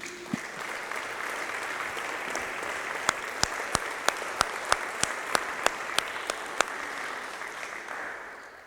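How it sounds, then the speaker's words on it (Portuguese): A church congregation applauds for Jesus during a Sunday service, a sustained roar of many hands with a series of sharper, evenly spaced claps ringing out through the middle before the sound fades. "E uma salva de palmas para Jesus."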